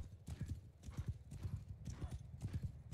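Horse hooves galloping in the multiplayer battle game Bannerlord Online, a rapid, uneven clip-clop drumming that continues steadily throughout, close and moderately loud, with faint voices mixed in.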